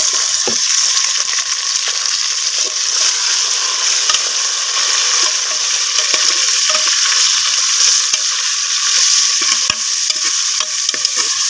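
Onions fry loudly in a pan with a constant, hissing sizzle while a utensil scrapes and stirs them in irregular knocks, close up with no talking.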